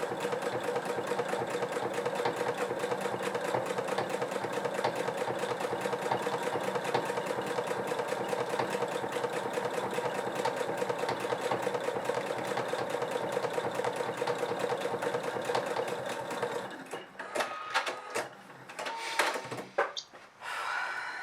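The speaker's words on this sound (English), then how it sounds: "So just sew slowly the buttonhole, really slowly" A sewing machine slowly stitching a buttonhole on jeans hums in a steady rapid chatter for about sixteen seconds, then stops, leaving a few scattered clicks and handling noises.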